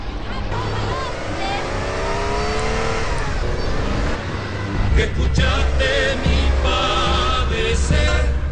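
Cars rev and roar at the start of a street race in GTA San Andreas, engines climbing loudly over a noisy game soundtrack with voices talking.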